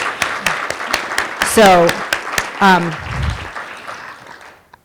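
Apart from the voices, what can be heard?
audience applause at a meeting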